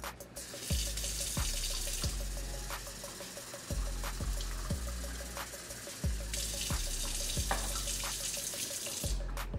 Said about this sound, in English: now I'm going to fill it up with some water.